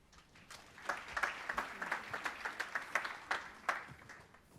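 Applause for two judges at a talk event on inner peace, heard as a small group's fairly faint, rhythmic clapping with distinct individual claps, with no talk over it.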